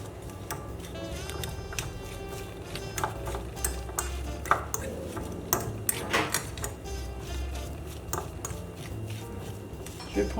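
A utensil stirs chopped onions in a bowl, giving a quiet run of irregular light taps and scrapes against the bowl, close by and with no talking.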